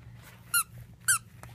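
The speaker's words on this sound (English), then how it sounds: "Oh, you like this boot? Does it squeak?" A squeaky plastic dog toy shaped like a boot is squeezed twice, giving two short, bright squeaks about half a second apart over a quiet room background.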